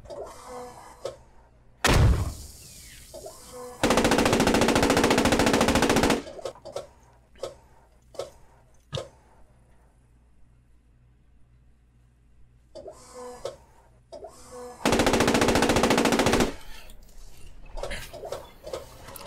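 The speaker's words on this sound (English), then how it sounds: "He was shooting machine gun at us." Machine gun fire in the World War II video game Post Scriptum, heard as two long, loud sustained bursts separated by scattered sharp shots, clicks and thuds amid quieter gaps.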